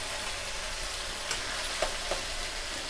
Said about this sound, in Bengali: আমরা ভালো করে এই মশলাটা কষিয়ে নেবো যাতে কাঁচা গন্ধ না ছাড়ে।